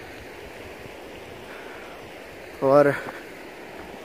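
Water flows at Saif-ul-Malook mountain lake in the Naran Kaghan valley, a steady soft rushing wash heard continuously, with a brief spoken word near the end rising briefly above the flow.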